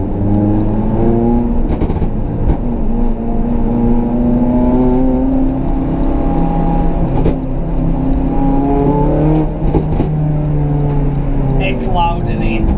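A track-prepared Honda Civic Type R FN2 with a 5.8 final drive roars loudly from inside the cabin, its engine note climbing and falling steadily through revs and gear changes, with voices talking over it.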